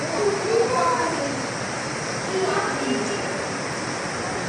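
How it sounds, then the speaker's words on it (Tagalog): Heavy rain pours steadily in a continuous dense hiss, loud and close, with a swollen river nearby, the downpour swelling slightly in intensity with no voices over it. "Lumalakas na yung ulan."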